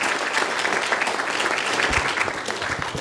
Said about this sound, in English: let's give a round of applause for their efforts to organize today.